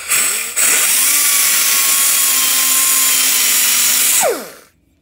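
A sanding roll spins up to a steady, loud whine as it grinds on a brand-new engine piston, holding an even pitch for several seconds before winding down and stopping.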